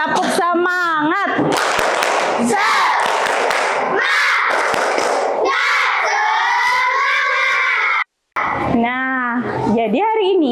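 Schoolchildren in a classroom perform a rhythmic encouragement clap, bursts of group clapping woven through loud chanted voices and speech. There is a brief silent gap near the end, then more voices follow.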